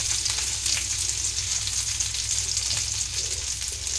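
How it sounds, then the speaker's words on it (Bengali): Fish and chillies fry in a pan with a steady, dense sizzle that carries on unbroken, close and fairly loud, with no voices. "এইভাবে এপিট ওপিট করে পাল্টে মাছটা ক্রিস্পি করে ভেজে তুলতে হবে।"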